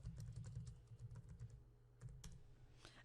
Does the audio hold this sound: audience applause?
no